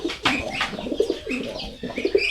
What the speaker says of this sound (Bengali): এখন নরের ডাক দেখার পালা